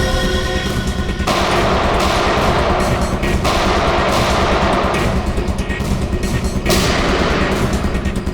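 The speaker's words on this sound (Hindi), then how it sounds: "वहां से चल रही है गोलियां।" Continuous loud gunfire, rapid automatic bursts rattling without pause over a dense roar, with a few heavier booms standing out.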